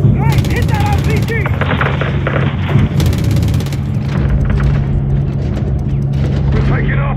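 RPG blasts and rattling gunfire in a Call of Duty Modern Warfare 3 battle at a hangar, loud and continuous with booming explosions under shouted voices.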